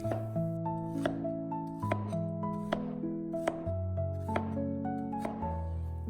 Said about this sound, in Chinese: 准备1个土豆切成小块